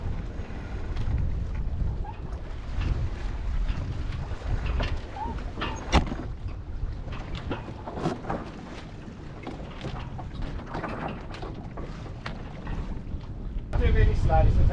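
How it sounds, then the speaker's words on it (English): A sailboat tacking upwind under its staysail off the Greek coast, with continuous rushing wind and water noise against the hull and rigging, fairly loud and close, with occasional knocks and a brief voice near the end. "we're tacking upwind on the staysail to Kalimnos"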